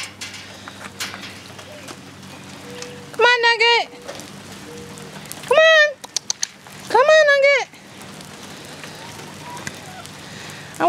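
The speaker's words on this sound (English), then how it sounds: "I want to stand in the rain." Steady rain patters on a surface throughout, with a person speaking in short bursts over it.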